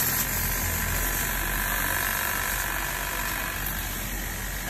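An MS310 pressure washer running with a 2.5 mm nozzle tip, a loud, steady mechanical whir with a constant high hiss, unbroken for several seconds.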